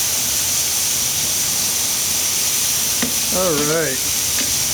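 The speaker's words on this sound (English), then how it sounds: "See, it's getting seared." Hawaiian-style short ribs sear on a grill with a steady, loud hiss and sizzle throughout, while someone speaks briefly near the end.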